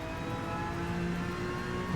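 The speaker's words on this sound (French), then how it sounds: "on va prendre cette fameuse petite voiture" A small rookie-series race car drives along, its engine droning steadily and faintly with a slight rise in revs at the end, heard from the passenger seat.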